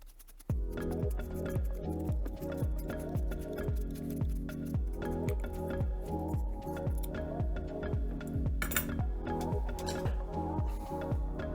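Potatoes being peeled by hand for a Moroccan lamb and vegetable tagine, a steady run of quick, evenly spaced scraping strokes, close and moderately loud, continuing throughout.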